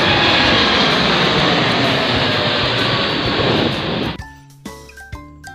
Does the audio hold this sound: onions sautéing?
no